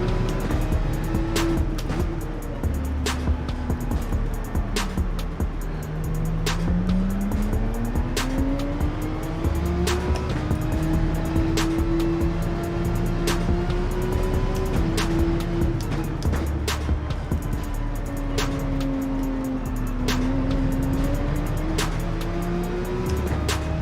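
A Group 3 race car in Gran Turismo 7 with a loud, close engine that rises and falls through gear changes, plus tire squeal and skids, running continuously without speech.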